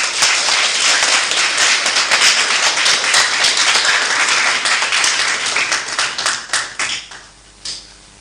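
A crowd applauds loudly with dense, sustained clapping that gradually thins out and fades to a few scattered claps at the end.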